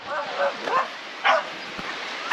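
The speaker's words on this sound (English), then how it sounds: "We just managed to fit in all these little dogs running with each other." Small dogs yip and bark in a few short, high bursts on a beach, with quiet gaps between them.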